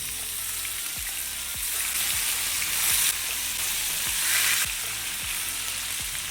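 Bele fish pieces fry in hot mustard oil in a pan, a loud continuous close sizzle with brief surges as pieces go in, and soft scraping under steady background music.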